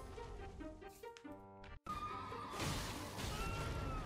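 A horse neighs and whinnies in Elden Ring, a loud, wavering call that breaks off abruptly, followed by a dull thump and a rougher, noisier stretch of sound with no talking.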